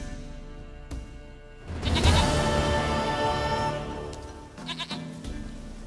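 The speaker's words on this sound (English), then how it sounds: "Goat of mine, dearest, sweetest goat." A goat in The Witcher 3 gives a loud, drawn-out wavering bleat close by, followed a moment later by a shorter second bleat.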